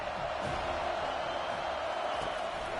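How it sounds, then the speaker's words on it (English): A stadium crowd in a college football video game, Cal at FSU, makes a steady, dense roar that fills the short stretch evenly and loudly, with no clear breaks. "This crowd bringing the energy and noise early."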